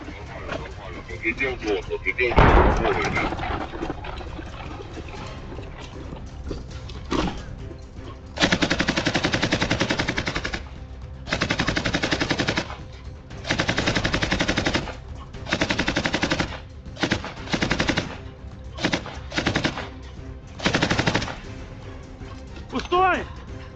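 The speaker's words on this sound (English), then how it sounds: "they immediately take cover and begin firing toward the wooded area" Gunfire in the military game Arma Reforger during a close-quarters firefight near woods, with sustained bursts of automatic fire and single loud shots in repeated blocks, heard under a narrating voice.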